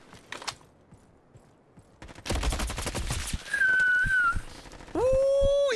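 Rapid gunfire in a Roblox first-person shooter rattles in a loud, dense burst, preceded by a couple of isolated shots and followed by sustained whistling tones from the game.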